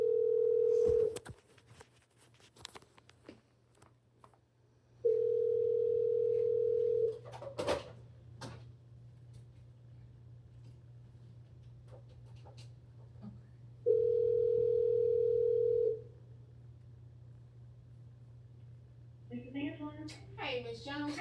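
Phone call being placed from a city cemetery office: a steady dial-type tone sounds in three long bursts separated by pauses, clear and fairly close, with quiet room noise and brief voices between.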